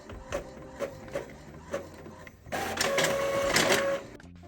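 A printer running off packing slips: several spaced clicks and thumps, then a louder sustained whirring feed for about a second and a half before stopping, close and fairly quiet.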